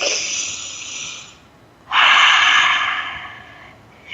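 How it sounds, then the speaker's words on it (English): A group drawing a deep breath in together during a leadership session: one long audible inhale, a pause, then a louder, fuller breath that tapers off, with no talking. "Let's breathe that in together."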